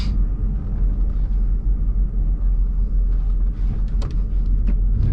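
A VL Commodore with a turbocharged RB30 engine rumbles deep and steady just after a burnout, a heavy, close, low-frequency idle with a few brief higher clatters near the end.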